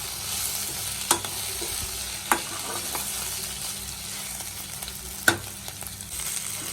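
Cluster beans (goruchikkudu) frying in a pan for a curry: a continuous sizzle with three sharp clanks of a spatula against the pan spaced through the stretch, no speech.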